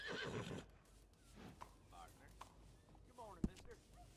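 A horse whinnies in Red Dead Redemption 2, a standard elite horse, with a neigh early on and another short call near the end, moderately loud over game ambience, with no talk heard.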